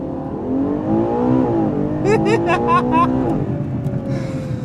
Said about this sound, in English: So this is just going to be acceleration with launch control.